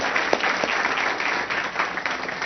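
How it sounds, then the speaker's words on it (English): Audience applause at a spring forum in the village of Monticello, a steady wash of many hands clapping throughout, fairly loud and close, with no talking over it. "Let's just give a big round of applause for everyone that"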